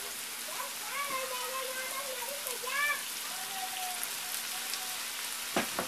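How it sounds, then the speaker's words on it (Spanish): Tomato, onion and chiles sizzle steadily in a pan with chicken gizzards just added, a constant frying hiss with a few faint high chirps over it. "Ya que el jitomate con la cebolla y los chiles se frieron un poco, voy a agregar las mollejitas de pollo."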